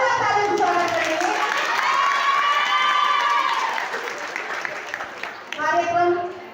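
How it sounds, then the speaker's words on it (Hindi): At a school farewell party, a crowd claps and cheers steadily while a loud voice calls out over the noise, the applause fading briefly before swelling again. "उनके लिए जोरदार तालियों से स्वागत करेंगे।"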